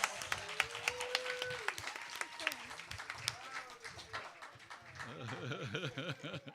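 Scattered applause from a Sunday church congregation, with distinct claps under and between a speaker's voice, fairly faint, with talking continuing near the end.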